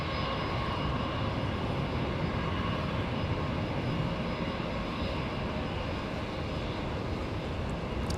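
A former Northwest Airlines Airbus A319 lands on runway 24 right at Los Angeles International Airport, a steady, broad engine roar holding level throughout with no distinct peak.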